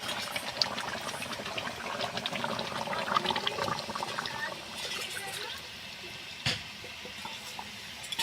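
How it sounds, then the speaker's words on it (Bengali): Coconut milk poured into a pot of duck curry, giving a steady liquid splashing and trickling that runs for several seconds, moderately close, then eases off near the end. "তো এবার এই নারকেলের দুধটা দিয়ে দেবো।"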